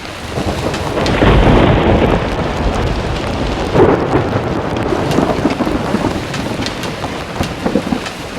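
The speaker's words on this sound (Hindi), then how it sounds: "बारिश कम होने का नाम ही नहीं ले रही।" Heavy rain pours steadily near Kedarnath while rolling thunder rumbles loudly through it, swelling early and again midway, with no voices.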